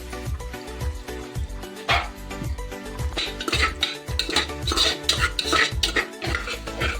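Onions hitting hot oil in a pressure cooker for a country chicken curry, with a steady sizzle under repeated metallic scrapes and clanks of stirring, a background hum running throughout, close and moderately loud, no speech.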